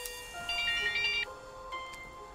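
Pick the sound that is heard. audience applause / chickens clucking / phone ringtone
phone ringtone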